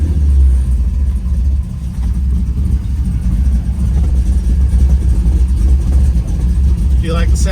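A car engine in a hot-rod muscle car keeps up a deep, steady rumble through the drive, with a brief rise in revs, heard loud and close from inside the car.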